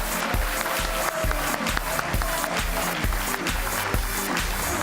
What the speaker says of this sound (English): may we have another round of applause for all of our inductees.